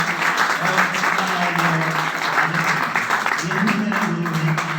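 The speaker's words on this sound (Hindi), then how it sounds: "जोरदार तालियों के साथ में उनका भी स्वागत करना चाहूंगा" Loud, sustained applause from an audience welcoming guests at a gathering, with voices and talk mixed in throughout.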